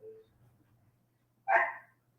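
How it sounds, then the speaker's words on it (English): A dog lets out a single sharp bark indoors, loud and close after a quiet moment. "Shut the dog up, please."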